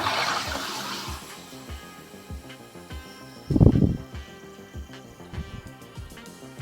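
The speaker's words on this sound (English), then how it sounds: "it's just a rush of CO2 that goes into your water" An OTE portable sparkling water machine releases CO2 into water: a soft hiss at the start, then one loud, brief gushing rush of gas, followed by quieter bubbling and small clicks, heard close up.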